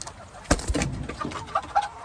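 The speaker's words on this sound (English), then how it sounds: "He's my big giant rooster." A big rooster of a named breed, called Devil Bird, gives a few short clucks and calls at close range, the loudest burst about halfway in, with softer rustling and faint bird sounds around it.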